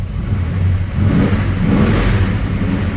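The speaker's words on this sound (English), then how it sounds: "You can feel the whole car torque when you give it a little acceleration" A 1972 Chevrolet Chevelle engine revs up with a deep, rumbling growl, rising and holding steady at close range with no talking.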